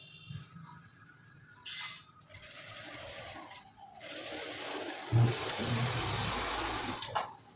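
A sewing machine stitches the seam of a dress, its motor whirring in bursts that start, pause and run again, with a few light clinks of handling between stretches of stitching.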